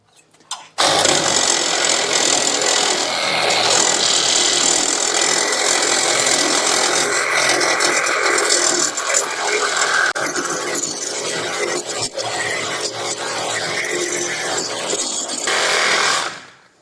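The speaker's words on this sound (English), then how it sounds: "I can get this blade in there and just cut the bolt" A saw blade grinds steadily through a seized lower control arm bolt on a Ram truck, a loud, dense cutting rasp that runs continuously for about fifteen seconds, alone, before cutting off.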